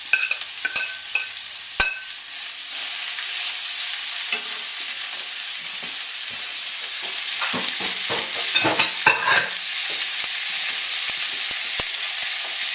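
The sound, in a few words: orange bell pepper frying in a pan for fajitas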